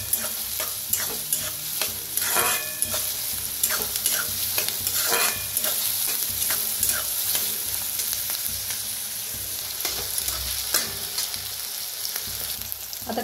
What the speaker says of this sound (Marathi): कांदा आता छान असा भाजून घेऊया